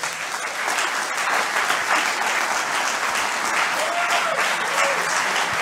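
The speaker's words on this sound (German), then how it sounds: "Applaus" Lecture audience giving sustained, even applause after an art-history talk on modern iconography, a thick wash of clapping hands from a full hall.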